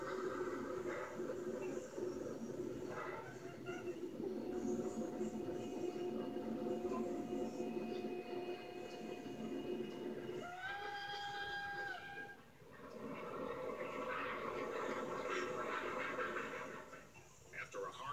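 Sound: train climbing a mountain pass

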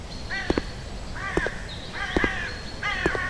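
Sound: birds cawing in the horror video game My Place

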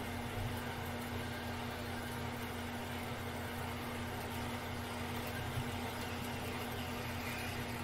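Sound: lathe cutting brass with cutting oil

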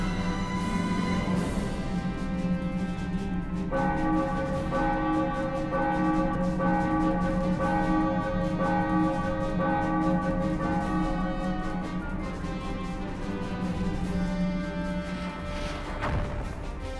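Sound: bell ringing in the video game Xenoblade Chronicles

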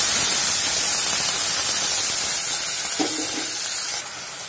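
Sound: water boiling in pan with onions

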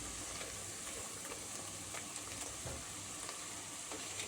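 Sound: onions frying and being stirred in pan

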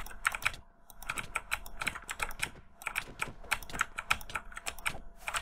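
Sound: computer keyboard and mouse clicking

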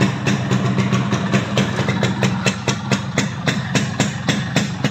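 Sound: Yamaha RX King 2004 motorcycle engine running

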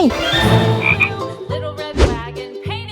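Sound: large frog croaking

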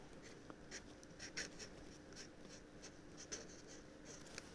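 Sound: writing with a black Pilot pen

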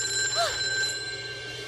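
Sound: telephone ringing

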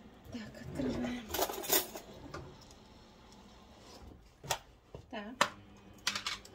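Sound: opening a jar of vinaigrette vegetable mix

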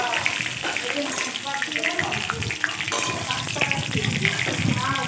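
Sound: hilsa fish heads frying in oil in a pan

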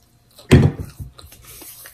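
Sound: running water

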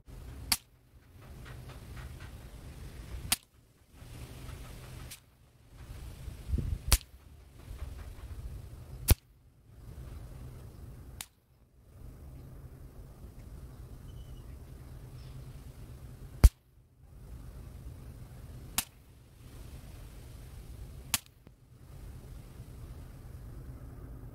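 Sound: air rifle shots

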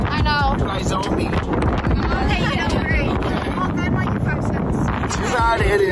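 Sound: wind blowing on cold windy day

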